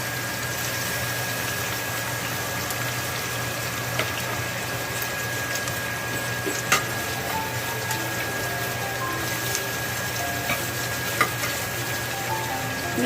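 Onions fry in a pan for oats haleem over medium to high heat, giving a steady, loud, dense sizzle that runs the whole time, with a few faint clicks and no talking.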